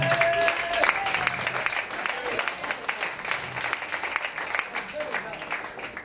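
A church congregation applauds the Lord, sustained clapping from a crowded room that gradually fades, with a few voices and some tonal sounds near the start.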